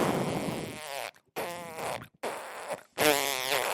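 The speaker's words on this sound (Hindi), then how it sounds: "बस बस बस जानू, अब नहीं पादब।" Cartoon comedy flatulence sound effects: four loud, buzzy farts, each lasting about a second, separated by short silent gaps, with the last one the longest and most forceful.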